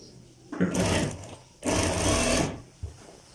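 A sewing machine stitching a kalidar kurta runs in two short bursts of rapid whirring, close and loud, with a quiet pause between and a faint click at the end.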